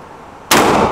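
A single loud, sharp gunshot fired at an outdoor shooting range cracks out abruptly midway, preceded by quiet background and followed by a sustained ringing decay.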